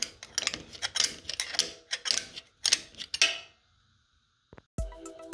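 A torque wrench tightens the drive shaft bolts on a BMW X3 M: close bursts of rapid ratcheting clicks, then a short pause and a couple of sharp metallic clanks at the end.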